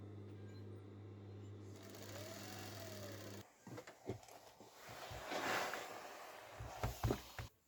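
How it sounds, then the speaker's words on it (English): Sewing machine stitching denim straps for a vest made from old jeans, a steady hum at first, then rougher bursts of needle running with brief pauses and handling noise. "Right sides together. I'm going to sew it down."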